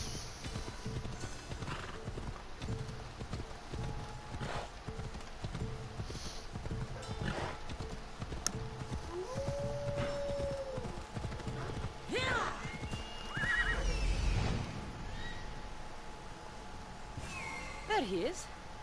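A horse gallops and neighs in Assassin's Creed Odyssey, with hooves clip-clopping on and off over game ambience and a drawn-out whinny partway through; a voice talks quietly now and then.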